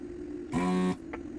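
Vacuum pump of a desoldering gun used to remove old solder from an Apple IIc Plus board, a single brief buzzing drone of under half a second over a steady low hum, near and moderately loud.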